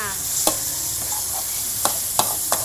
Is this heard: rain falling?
no